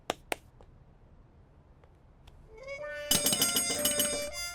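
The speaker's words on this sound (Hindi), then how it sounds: "घंटी बजा" After a few clicks and taps, an electronic doorbell chime rings out loudly with a tinkling, bright melodic tone that continues to the end.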